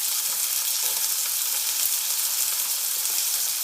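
Beef patties fry in a hot pan with a steady, close, bright sizzle that stays even throughout, with no voices.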